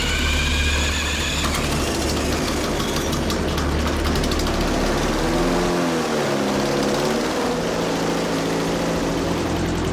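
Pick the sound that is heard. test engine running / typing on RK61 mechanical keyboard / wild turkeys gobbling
test engine running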